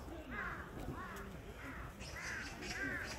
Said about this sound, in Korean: 까치 소리가 들리고